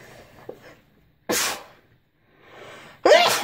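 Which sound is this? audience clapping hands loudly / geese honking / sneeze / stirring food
sneeze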